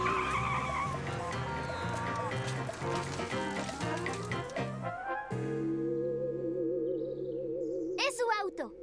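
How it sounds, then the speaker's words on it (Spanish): Cartoon car in a Mona the Vampire episode, racing and skidding loudly under a music score, with a rising engine whine and a sharp tire squeal near the end. "¡Es su auto!"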